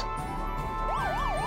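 A cartoon police car's wailing siren rises and falls in smooth sweeps over steady background noise, starting partway through and continuing to the end.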